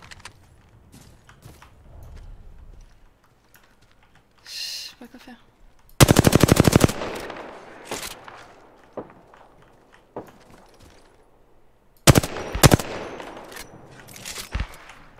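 Automatic weapon fire in the battle royale game Apex Legends, two loud, dense bursts of rapid shots separated by scattered single shots, footstep-like taps and faint ambient game sounds.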